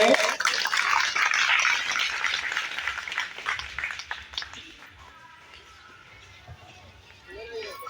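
A church audience at a Christian prayer gathering claps to encourage a child, a dense burst of applause that stays loud for several seconds, then thins out and fades to quieter room sound.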